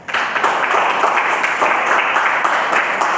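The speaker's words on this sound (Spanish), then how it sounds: "Démosle un fuerte aplauso." Church congregation giving loud, sustained applause at close range, a dense steady wash of clapping lasting throughout without pause.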